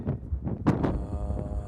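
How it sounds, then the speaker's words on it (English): Gusty wind buffets the microphone in short bursts high up outside Cave of the Winds in Colorado, a brief rough rumble rising and falling. "it's windy up here."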